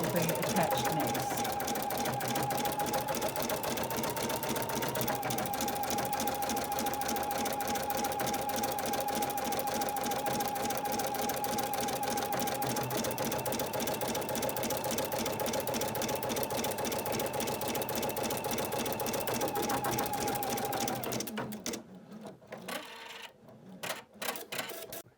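Embroidery machine in the hoop stitching applique placement lines, a steady rapid needle patter over a motor whine that runs for about twenty seconds, then stops, leaving scattered quieter clicks and handling noises.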